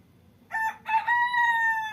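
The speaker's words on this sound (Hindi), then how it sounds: "ए नया मुर्गा बहुत तकलीफ दे रहा है" A rooster gives a single close cock-a-doodle-doo, a bright rising then held call lasting about a second and a half, over a faint low background.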